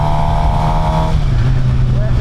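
A Suzuki GSXR 750 on a demo ride, its engine a loud steady drone that eases off partway through, with a voice talking over it.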